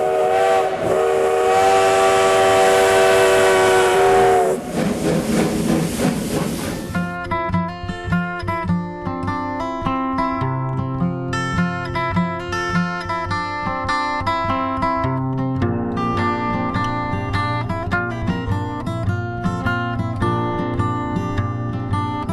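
The 1880 steam train of the Black Hills Central Railroad at Hill City sounds a long, loud steam whistle blast lasting several seconds, after which music takes over.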